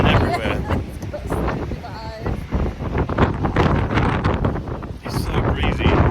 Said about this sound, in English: It's so breezy.